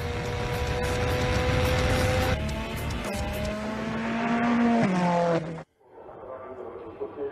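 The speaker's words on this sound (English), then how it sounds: "488 V8 engine with double turbo finds here the best conditions to express full torque and power" Ferrari 488 Challenge race cars with twin-turbo V8 engines roar past loudly at Monza, engine notes rising and shifting through gears, with a tire squeal, before the sound cuts to a quieter, more distant engine drone.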